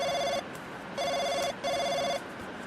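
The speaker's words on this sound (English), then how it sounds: "you get a call on your phone" A phone rings in a tabletop role-playing game session, three evenly spaced electronic trilling rings, close and clear, with no talk.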